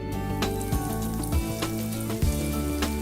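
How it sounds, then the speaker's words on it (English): Continuous crackling sizzle of chicken frying in hot oil, steady and close, with occasional louder pops and splutters. "listen to that sizzle"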